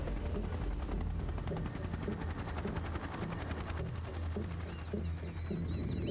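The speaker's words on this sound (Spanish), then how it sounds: "Será pesado que lo traen entre 5 helicópteros." Helicopters in the Metal Gear Solid 3 video game whir with a steady, dense rotor chop that holds throughout, layered with rumbling game sound and a bright rhythmic pulsing through the middle.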